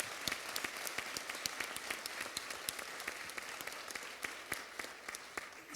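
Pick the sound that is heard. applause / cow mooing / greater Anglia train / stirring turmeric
applause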